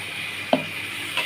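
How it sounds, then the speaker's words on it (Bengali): Green peas frying in a kadai, a low continuous sizzle broken by one sharp scrape of a stirring spoon midway and a fainter one near the end. "এই কড়াইশুঁটিগুলো আমি সব দিয়ে দিচ্ছি।"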